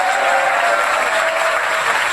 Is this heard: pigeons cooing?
no